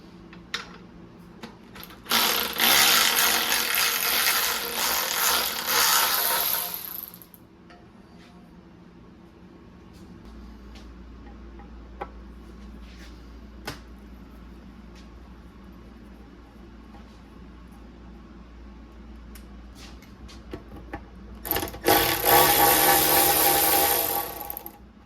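Bursts of loud whirring from a power tool start and stop while removing the valve cover from a 2000 Mazda Miata NB engine, with scattered clicks, ratcheting and small metal clatters in quieter stretches between.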